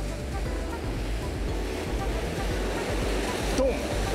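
Large, rough surf breaks along the shore at Cape Toi on Japan's southern tip, where anglers cast for sea bass. Heavy waves produce a steady, close, low-pitched roar and wash with wind noise on the microphone throughout.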